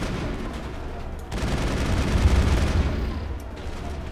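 Sustained gunfire in Mass Effect, a dense rattling fusillade that jumps louder about a third of the way in, holds, then tapers slightly before the end.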